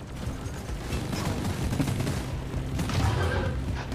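Sticky grenade explosions and heavy combat noise in a video game, a dense continuous barrage of booms and gunfire at steady high loudness with no pauses.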